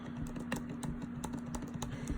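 Rapid, steady typing on a 2019 MacBook Pro keyboard, with crisp, close keystrokes clicking in a quick rhythm and no voice over them.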